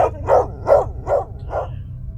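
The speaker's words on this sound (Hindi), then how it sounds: "उसको अपने घर के बाहर कुत्ते की भौंकने की आवाज आती है।" A dog barks five times in a quick, even rhythm, each bark loud and close over a low background hum.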